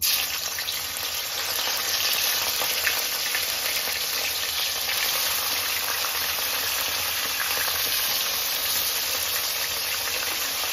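Mutton pieces fry in a hot kadai with dried red chilli, cardamom and cinnamon. The sizzle is loud, close and continuous, a steady crackling hiss with no talk over it.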